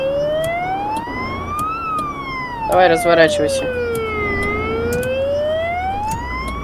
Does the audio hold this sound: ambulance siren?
yes